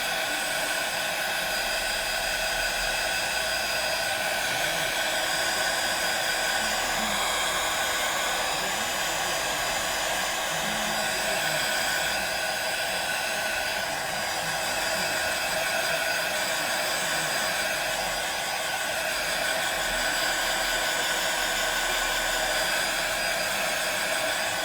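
A hair dryer runs continuously on a gentle setting, drying paint on a mixed media art piece, a steady close whooshing hum that persists throughout without pause.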